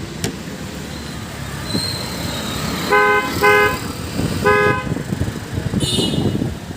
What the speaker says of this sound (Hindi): मैंने हॉर्न भी चेंज करा लिया, आपको सुनाया भी था, फिर सुन लो।